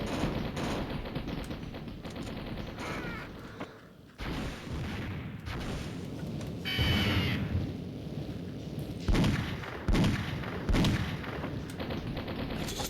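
Sniper rifle gunfire in the Mini Militia mobile shooter game, with repeated loud shots and booming bursts running through dense, continuous game audio.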